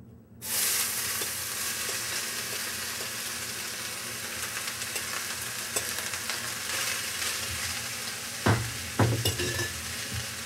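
Vegetables dropped into hot oil in a skillet burst into a loud, steady sizzle that holds evenly, with a couple of clattering stirs near the end and no talk.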